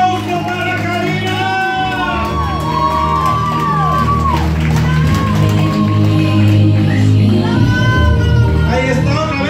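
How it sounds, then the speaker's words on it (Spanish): A banquet crowd cheers, whoops and shouts loudly and continuously for Karina at her fifteenth-birthday celebration, with music playing underneath. "¡Un aplauso para Karina!"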